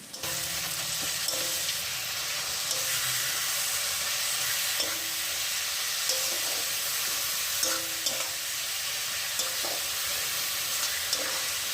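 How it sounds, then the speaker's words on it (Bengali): Onion, ginger, garlic and ripe chili paste frying in hot oil while being stirred, a steady close sizzle with scattered scraping clinks of the spoon throughout, no voices. "মশলাটা এবারে কষিয়ে নিচ্ছি।"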